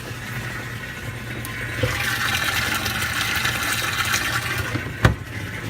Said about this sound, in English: So I'll go ahead and turn on the pump and put a little switch on here.